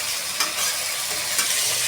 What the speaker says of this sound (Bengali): পুঁই শাক ডাঁটাটা এই কুমড়ো আলুর মধ্যে ভেজে নিলে